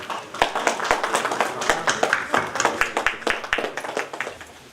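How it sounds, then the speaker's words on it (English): A modest group at a workshop on seeking government funding claps for an arriving guest: scattered, fairly close claps with sharp individual strikes in an uneven rhythm, moderately loud and without speech. "A round of applause for our guest."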